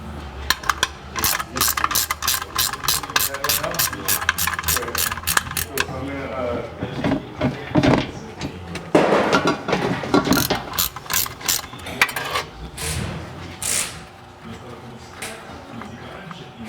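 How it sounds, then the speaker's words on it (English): A ratchet wrench clicks rapidly in steady bursts as it loosens the 17 mm oil pan drain plug on a 2003 Acura MDX, followed by scattered metallic handling clatter and faint talk. "you're taking off the oil plug off the pan of the motor. This is a 17 on the oil pan plug"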